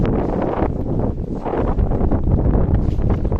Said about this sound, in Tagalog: Sarap dito, malakas ang hangin.